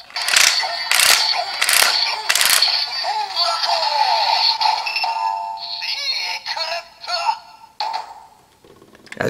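A DX Avataro Gear toy from Avataro Sentai DonBrothers gives off a burst of electronic effects: sharp clicks and ratchet-like taps followed by synthesized tones and a short electronic voice call.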